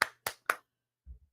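Three sharp hand claps in quick, even succession at close range, followed by a soft low thump; no talking.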